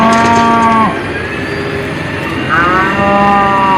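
A cow moos twice in a toy cattle-truck mud-rescue scene. Two loud, long, drawn-out lowing calls are separated by a short quiet gap.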